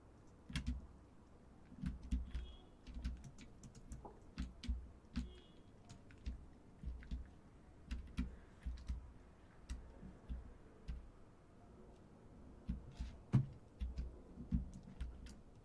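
Rapid irregular clicking and tapping of a keyboard heard during Minecraft play, steady soft keystrokes with a few louder taps, fairly close and alone without talk.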